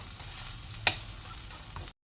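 Battered snacks frying in a pan, a steady close sizzle running throughout with a single sharp clink partway and a small tap near the end, no voices.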